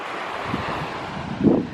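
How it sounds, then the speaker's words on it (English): Ocean waves breaking at Sebastian Inlet, a Florida surfing spot near a fishing pier, heard as a steady rush of surf buffeted by wind noise, with one louder swell near the end. "the waves are pretty big here"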